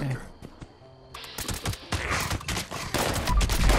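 Bloodied assault rifle firing in the game Fallout 76, a rapid string of sharp automatic shots in short bursts, loud and close, with someone talking over the shooting.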